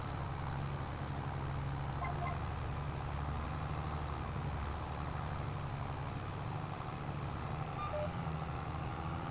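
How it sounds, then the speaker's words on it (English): A New Holland T8 435 tractor unloads in Farming Simulator 22, a steady low engine drone with a broad mechanical hum running unchanged throughout at a moderate distance. "the New Holland T8 435 is unloading at the moment"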